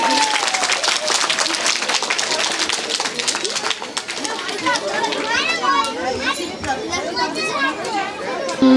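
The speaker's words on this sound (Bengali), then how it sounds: "সবাই একটু করতালি দিন" Children at a kindergarten school annual function clap along in a dense, lively patter, mixed with excited children's chatter and shouting that rises over the clapping in the second half.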